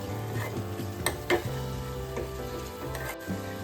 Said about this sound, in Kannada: ಸ್ವಲ್ಪ ಎಣ್ಣೆ ಬಿಡ್ಕೊಂಡು ಚೆನ್ನಾಗಿ ಫ್ರೈ ಆಗೋವರೆಗೂ ಬಾಡಿಸ್ಕೊಂಡ್ರೆ ಸಾಕಾಗತ್ತೆ